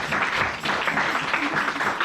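A church congregation applauds to acclaim the Lord during a pastor's sermon, a dense, steady wash of many hands clapping that fills the space without pause.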